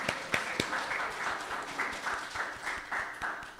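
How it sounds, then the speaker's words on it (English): Small congregation at a Unity church gathering clapping for a member, a modest, moderately quiet patter of hands with a few sharper individual claps standing out. "How about a little clap?"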